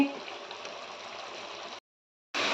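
Pointed gourd (parwal) sautéing with yogurt in a pan over a high gas flame, a steady bubbling sizzle that runs for nearly two seconds, cuts to silence, then returns briefly.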